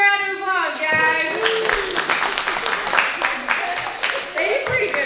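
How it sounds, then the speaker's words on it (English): Scattered audience clapping greets a children's Christmas performance, loose and uneven, while someone speaks over it and the claps continue beneath his voice. "give them a round of applause"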